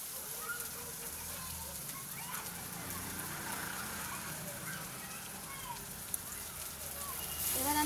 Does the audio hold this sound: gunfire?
no